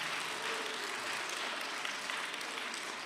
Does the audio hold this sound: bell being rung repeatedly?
no